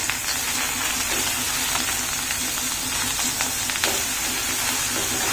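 Mushrooms fry in a pan over a low gas flame, giving a steady, close sizzle with faint crackles throughout and no talk.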